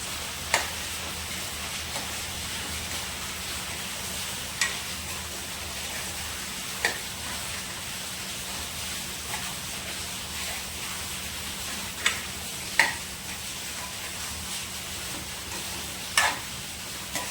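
Paneer masala with garam masala, turmeric and salt is stirred in a hot pan, giving a steady low sizzle broken by occasional sharp spoon taps against the pan.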